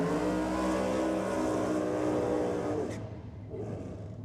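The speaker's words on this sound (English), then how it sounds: "Brendan Luke coming out now in the front engine dragster." A front-engine dragster at a drag race roars loud and close with a sustained, harmonic-rich engine note that cuts off sharply near the end, leaving a lower rumble and crowd noise.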